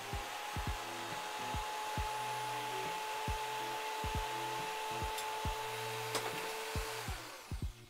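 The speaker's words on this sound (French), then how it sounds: "si je débranche le vélo et que je laisse juste la scie sauteuse" A jigsaw powered from a portable battery station inside a camper van, its motor whining steadily while the blade chops in rapid repetitive strokes, with a faint electrical hum underneath.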